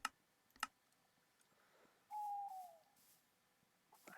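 Loon call in the Duck SMP video game, a single faint wavering hoot rising then sliding down, set against quiet ambience with a few sharp clicks before and after.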